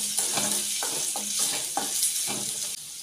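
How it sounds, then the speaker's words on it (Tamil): Chopped onions sautéing in a pan for a Tamil kathirikai varuval, a continuous close sizzle punctuated by rhythmic scraping strokes of a spatula, with no talking. "இப்போ வெங்காயத்தில் எல்லாம் வதக்கிட்டுக்கலாம்."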